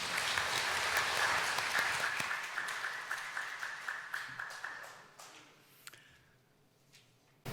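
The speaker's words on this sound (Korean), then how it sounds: "하나님께 영광의 박수 올려드리겠습니다." A church congregation gives a sustained round of applause during a Sunday worship service, a dense wash of many hands clapping that holds steady, then thins into scattered claps and fades out.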